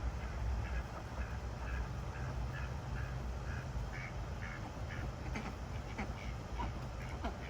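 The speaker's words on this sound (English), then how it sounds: "Those are just the ducks." Ducks quack in a repeated, evenly spaced series at moderate distance over a steady low background rumble, with no speech.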